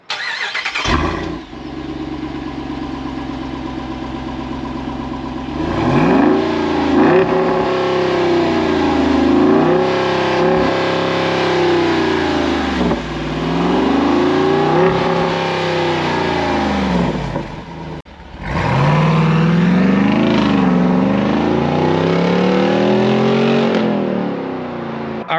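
A Jeep Wrangler 392 V8 on its first drive home, engine loud and close, repeatedly revving up and dropping back through gear changes, with a brief lull partway through and no talk.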